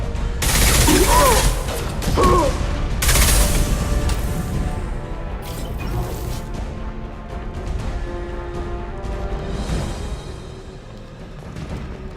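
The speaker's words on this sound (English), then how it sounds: "Firing an impact shot!" An impact shot ability fires in Mass Effect 2 amid a loud game battle, heavy booming blasts and crashing gunfire early on, then a rumbling, softer combat din with scattered hits.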